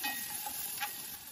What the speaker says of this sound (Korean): 식용유 여유있게 한 3큰술 하고 간마늘 반 스푼 정도 같이 볶아야 돼.